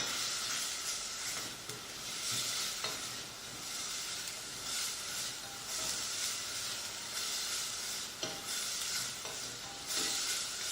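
A spoon stirring sweet potato and coconut dahl soup in a pot, a steady close bubbling and sizzling hiss with soft scraping strokes and a few sharper knocks against the pot throughout.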